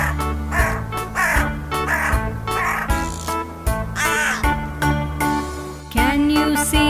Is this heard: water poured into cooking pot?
no